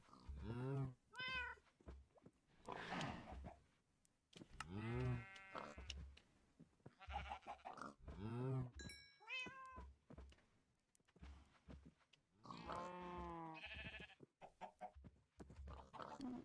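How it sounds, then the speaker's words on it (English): A cat meows repeatedly in a Minecraft world, a string of distinct, moderately loud meows spaced a few seconds apart alongside other animal and game sounds. "Who's a good little kitty?"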